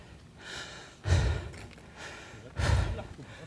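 Heavy, labored breaths after an hour-long mountain hike to the summit, two strong exhalations about a second and a half apart, close and loud with softer breathing between.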